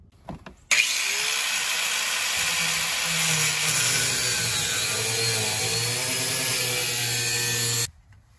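An angle grinder cutting sheet metal on a Lincoln Continental during fuel pump replacement: a loud, steady high whine starting abruptly and running about seven seconds before cutting off, with a lower tone under it.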